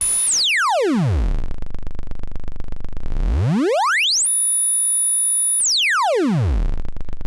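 Loud synthesizer tone, modulated by an LFO, sweeping sharply down and up in pitch, rising and falling repeatedly with a steady held note between sweeps, harsh and piercing.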